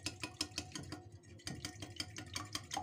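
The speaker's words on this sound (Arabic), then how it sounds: "وهلا رح احركهم كتير مع بعضهم اندمجهم مع بعض" Oil, milk and eggs whisked together in a bowl for Turkish börek dough, a quick run of rhythmic scraping and clinking strokes close up, with a short pause midway and no talking.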